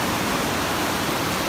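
Large rushing creek at Gold Creek, British Columbia, a steady dense broadband roar of flowing water, loud and continuous throughout with no voices.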